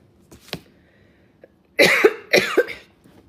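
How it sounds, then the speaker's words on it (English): A few quiet throat sounds, then two loud, harsh coughs close to the microphone. "As I keep coughing."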